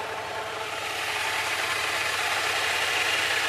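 An Aprilia Mana 840cc motorcycle engine idles steadily and quietly up close, a smooth, even mid-pitched hum with faint rhythmic pulsing that holds unchanged throughout.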